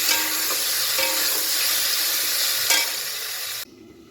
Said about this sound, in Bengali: ভাজ টমেটোগুলোকে ওর মধ্যে দিয়ে একসঙ্গে ভেজে নেবো